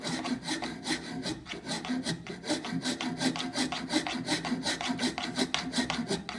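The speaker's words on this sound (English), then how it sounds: "All I'm doing is taking away, using those teeth to take away the excess wood from my saw." A hand rasp scrapes steadily across wood while shaping a school money box, giving a continuous gritty rasping made of rapid back-and-forth strokes, close and fairly loud.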